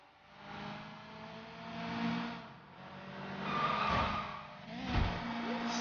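Car tires skid and screech under a hard e-brake in the Sleeping Dogs street race, a broad squeal swelling over a steady engine drone, with two sharp peaks of sliding rubber near the end.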